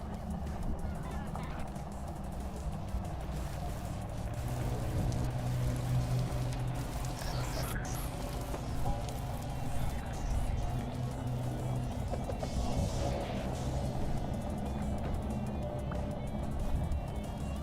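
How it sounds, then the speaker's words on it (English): Steady rain falls across an outdoor scene in the survival game Vintage Story, a continuous hiss under broadband noise and a low rumble, with a person talking over it throughout. "And it's raining out."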